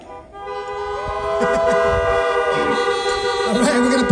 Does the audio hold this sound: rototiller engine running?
no